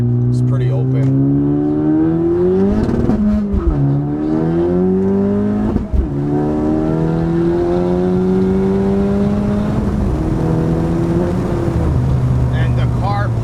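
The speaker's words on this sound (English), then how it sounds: "And the car pulls nice, man. It pulls so good." A 2018 Honda Civic Si accelerates hard in first gear, its engine note climbing steadily loud and close in a long pull with a brief dip and recovery near the middle, while people talk over it.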